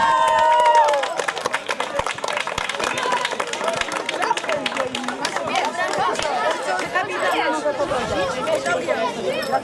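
Crowd applause at an award ceremony for a wild-teams tournament, with scattered sharp claps running throughout beneath lively chatter and overlapping voices.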